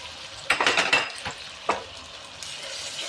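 Garlic hits a hot frying pot for a beef biryani and sizzles, with a few sharp stirring scrapes and clinks over a steady frying hiss.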